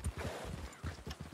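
Horse hooves clip-clop at a steady walking rhythm in Red Dead Redemption, close and fairly loud, with regular low thuds running throughout.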